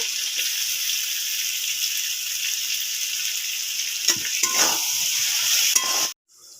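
Fried potatoes and long beans are stirred into a sizzling fish masala with turmeric and salt, a loud steady frying hiss with scraping stir strokes toward the end before it cuts off abruptly.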